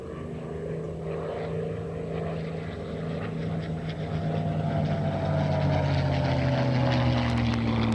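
World War II vintage P-51 Mustang propeller fighters roar past in a continuous, loud, droning rumble with pulsing overtones that swell steadily louder toward the end.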